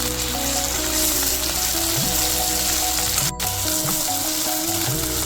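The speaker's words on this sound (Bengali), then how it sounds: "এবার আমি পেস্টটা দিয়ে ভালো করে ভেজে নেবো" Ginger-garlic paste frying with onions in hot oil, a loud continuous sizzle close up with occasional stirring.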